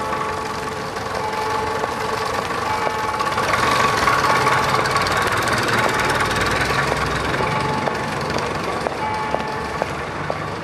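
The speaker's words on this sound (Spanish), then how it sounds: "siempre he querido montar en tractor" A tractor engine runs in a rural setting, a steady, close, droning rumble with faint regular ticking that holds at an even level throughout.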